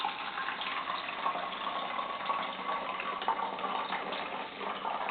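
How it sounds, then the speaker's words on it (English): Vinegar, about three quarters of a cup, pours through a funnel into a bottle, a steady, close, continuous gushing trickle of liquid lasting the whole moment with no voices. "I'm using about a 3/4 cup of vinegar. So I'm going to pour that into my bottle."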